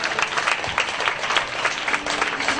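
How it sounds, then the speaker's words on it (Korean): A church congregation gives loud, continuous applause in praise of God during a worship service, many hands clapping together in a dense, even roar that stays strong throughout. "우리 하나님께 감사의 찬양의 박수를 올려드리겠습니다."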